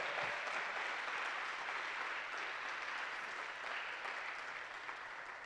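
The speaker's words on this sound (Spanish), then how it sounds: "eso amerita un aplauso al Señor" A church congregation applauds during a sermon, a steady, soft wash of many hands clapping that holds evenly and sounds somewhat distant and subdued.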